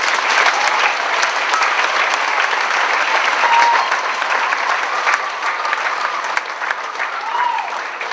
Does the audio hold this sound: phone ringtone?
no